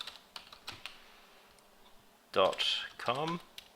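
A computer keyboard is typed on in quick bursts of clicking keystrokes, sparse at first and then a dense run, with a voice speaking partly over the later typing.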